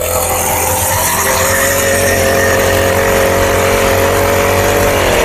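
A small engine on an Indian Agro automatic soybean weeder runs loud and close, a constant high buzzing roar with a faint rising whine and no talk over it.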